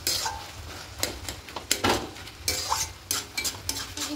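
Spatula stirring cabbage and potatoes in a pan, a close series of scraping and clinking strokes against the metal in an uneven rhythm, with a faint sizzle underneath and no talking.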